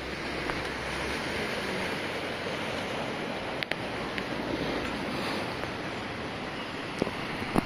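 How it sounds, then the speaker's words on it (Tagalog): Rough, choppy sea heard from a boat out in open water, a steady broad wash of waves with gusty wind buffeting the microphone and a few sharp knocks, continuous and moderately loud with no talk. "Masyadong maalon ang dagat."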